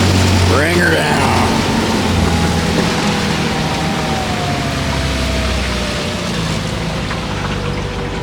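A 1967 Sears outboard boat motor idles on open water, making a steady low rumble under constant wind and water noise, with voices talking over it.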